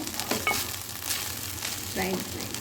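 Fried rice being stirred in a hot pan, giving a steady broadband sizzle with a few soft scraping stir strokes, close and moderately quiet, with no talking.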